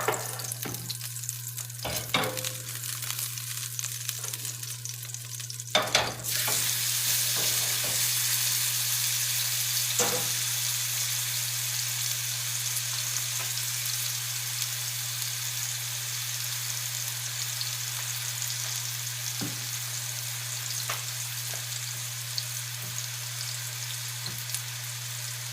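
Ribeye steaks sear in a hot pan with a steady, loud, close sizzle that flares up suddenly and then holds as a constant hiss over a low hum, with a few faint clicks and no voices.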